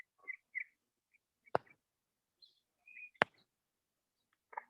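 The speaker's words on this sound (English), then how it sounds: "Yeah, it was a bird. A mockingbird." A mockingbird sings in scattered bursts: short whistled phrases and chirps spaced apart in quiet open air, interrupted by two sharp clicks or snaps, fairly faint and without talk.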